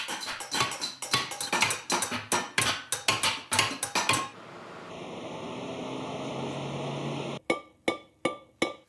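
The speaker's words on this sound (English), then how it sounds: "She swings the hammer, entirely absorbed in her work." Rapid metallic hammer blows ring out on a copper sheet being hand-shaped into a vase, in a quick steady rhythm, pause for a few seconds of ringing hum, then resume with several more strikes.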